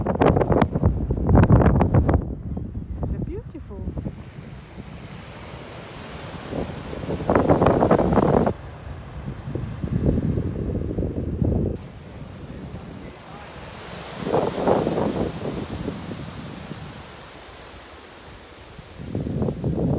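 Waves break and surge on a windy Scottish beach at Oldshoremore, with strong wind buffeting the microphone in heavy gusts between rolling surf, loud and close, and no voices heard.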